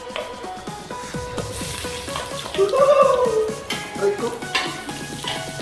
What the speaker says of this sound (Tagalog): Gisa na tayo. Kunahin natin yung sibuyas.